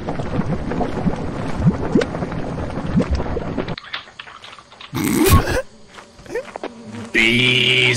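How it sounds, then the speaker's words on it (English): Swarm of bees buzzing in the video game Lethal Company, a steady insect drone with scattered clicks and noises, cut short midway and followed by louder bursts of game sounds. "Bees, what the fuck?"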